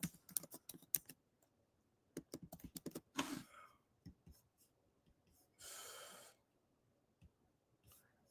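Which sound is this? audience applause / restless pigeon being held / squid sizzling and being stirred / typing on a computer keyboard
typing on a computer keyboard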